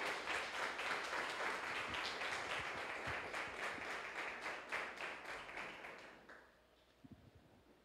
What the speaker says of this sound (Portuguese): Pode dar mais forte este aplauso ao Rei.